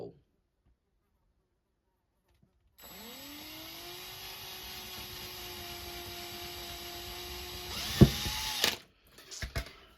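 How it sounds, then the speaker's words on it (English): A power drill spins up after a quiet start, whining steadily for several seconds before stopping abruptly with a clunk and a few knocks, drilling a hole for a silk fan veil. "we're going to drill our first hole."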